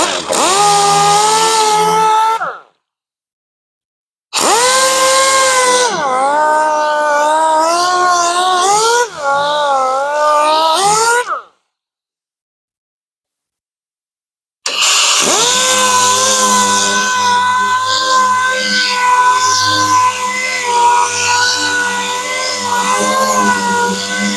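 A power sander with a 36 grit disc grinds down a dent on a car's rear quarter panel, making a loud, close whining roar that wavers in pitch as pressure changes and stops twice for a few seconds before resuming.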